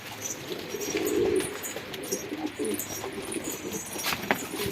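Homing pigeons coo in a loft, low throaty bubbling calls rising and falling close by, with a soft burst of wing movement and faint rustling around them.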